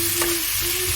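Spices stirred into chicken frying in a pan, a steady close sizzle with a brief scrape of the spoon.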